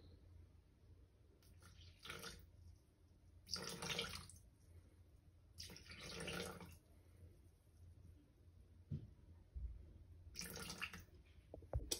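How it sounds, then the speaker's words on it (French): Cold water poured into a Thermomix bowl holding finely ground almond powder, heard as several separate pours that splash at moderate level with quiet pauses between them. "Je vais venir ajouter de l'eau froide."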